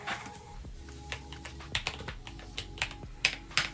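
Someone types on a computer keyboard up close, with irregular bursts of sharp clicks and clacks over a faint background hum.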